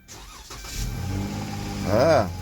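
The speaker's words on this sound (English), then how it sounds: "Now, this is the first time I'm cranking it." A car with a 3.6 Pentastar engine cranks briefly and fires up, a close starter whir that rises into a short rev before settling, with a voice heard faintly at the start.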